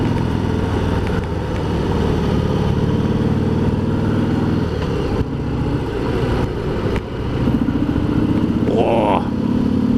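A stock Harley-Davidson Sport Glide with its standard exhaust climbs a hill in the countryside, its engine a loud, steady rumble close by that rises as the rider accelerates.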